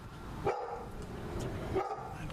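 Pit bull dogs bark at a door, two loud barks about a second apart over a steady low background.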